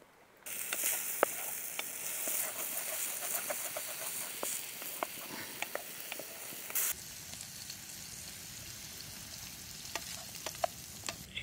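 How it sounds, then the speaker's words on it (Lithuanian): Mushrooms and diced lard frying in a pan in a forest at night, with a steady close sizzle and occasional sharp crackles and stirring clicks, and no voices. "Viskas kepa, viskas verda."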